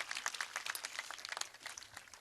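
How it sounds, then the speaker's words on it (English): Applause from an audience at a Green New Deal press conference in Los Angeles, dense scattered hand clapping that carries on steadily at moderate distance. "Let's give them a round of applause"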